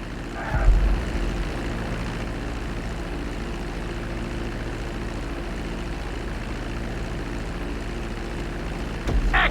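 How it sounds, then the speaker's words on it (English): A plane's engine in GTA V hums as a steady, droning tone on the landing approach toward the runway, continuous and moderately loud over a faint background hiss, with no talking. "Start reducing the plane's altitude gradually so you're just above the runway as you approach."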